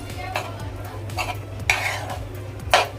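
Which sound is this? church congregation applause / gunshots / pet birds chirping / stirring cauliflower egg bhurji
stirring cauliflower egg bhurji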